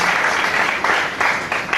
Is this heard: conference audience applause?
yes